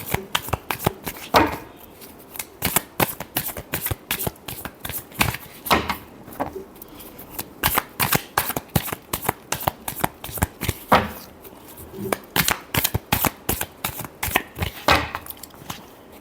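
Tarot cards are shuffled by hand in rapid, repeated riffling bursts of sharp papery flicks, pausing briefly between rounds, close and clear with no talking.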